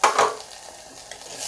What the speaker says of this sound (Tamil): இந்த தக்காளியும் வந்து கொஞ்சம் நல்லா வதங்கட்டுங்க